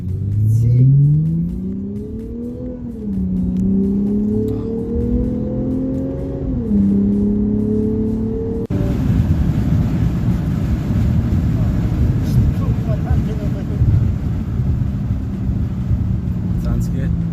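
A Lexus RC350 fitted with an Invidia Q300 exhaust revs up and down, its pitch climbing and dipping twice, then settles into a loud, rough, sustained roar, heard up close with some voices nearby.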